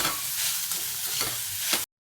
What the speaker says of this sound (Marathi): आणि शिमला मिर्च, कोथिंबीर, शिमला मिर्च असं सगळं टाकून घेऊन चांगलं परतायचं।